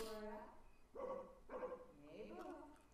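A dog gives a few separate barks, fairly close, with speech-like voices also present between and around them.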